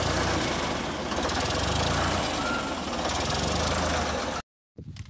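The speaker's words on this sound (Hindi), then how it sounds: "ये ट्रैक्टर जो है फोर्ड 3600 है ना?" Ford 3600 tractor engine running on a sugarcane farm, a steady diesel chugging and knocking at idle, close and loud, cutting off abruptly near the end.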